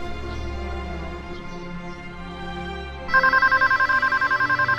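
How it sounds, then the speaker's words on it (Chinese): A telephone rings in a TV drama scene, entering abruptly after a stretch of background music and repeating in a steady pulsing pattern, loud and clear with no talk over it. "每一次电话铃声响起"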